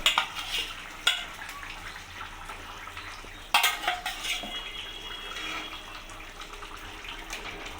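Kitchen pot sounds of a hilsa fish curry with pumpkin and eggplant, with utensil clinks and scrapes over a steady simmering hiss, two sharper metallic knocks standing out, no talk.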